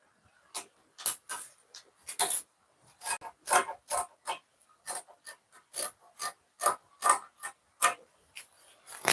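Scissors cutting dress fabric along the neckline, a series of close, crisp snips and rasping cuts in an irregular rhythm, heard alone without talk.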